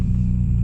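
Honda Civic EK car idling or driving at low speed, a steady close engine rumble with no voices over it.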